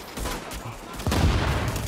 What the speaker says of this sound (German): Ein Schuss mit der Sniper und der Feind lag.